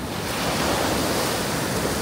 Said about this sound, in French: Ouais, il y a des sacrées vagues à passer là quand même.